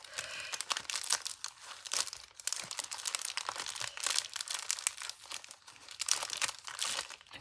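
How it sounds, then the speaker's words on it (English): A cellophane bag is scrunched by hand at a craft table, producing close, quiet crackling and crinkling bursts in irregular bunches throughout, with no voices. "So, scrunch your cellophane bag."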